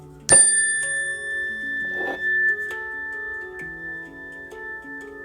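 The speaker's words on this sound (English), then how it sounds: "I gotta ring my bell again on myself." A small bell rings out twice, close and bright, the first strike sharp and the second about two seconds later, each tone lingering and slowly fading.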